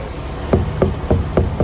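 Five dull, evenly spaced thuds of a hammer striking a semi truck's tires to check pressure, close and fairly loud over a steady background hum.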